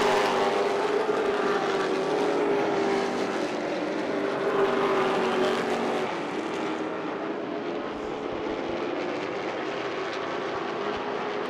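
Late model race cars racing at Irwindale Speedway, a continuous loud engine roar with a droning pitch that eases slightly partway through, heard without speech.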